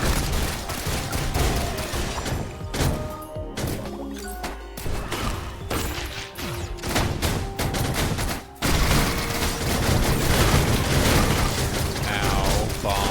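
Bombs go off in the video game Risk of Rain Returns amid dense in-game gunfire and impacts, a loud, continuous barrage of explosions and crashes with only brief near-silent gaps.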